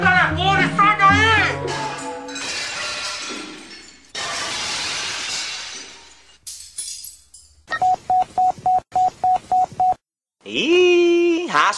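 Telephone keypad dialing heard during a radio call-in program: a quick run of about seven evenly spaced electronic beeps, sitting among voices, crashing noises and other sound effects.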